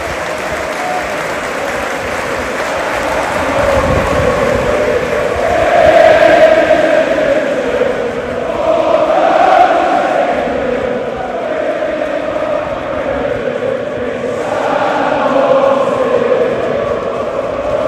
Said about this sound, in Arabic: تعالى اسمع كده كويس وركز في الاغنيه دي اللي بنسمعها ورددها كمان امبارح الجمهور في المدرجات لسام مرسي قائد الفريق